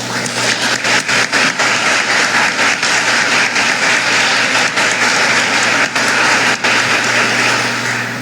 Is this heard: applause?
yes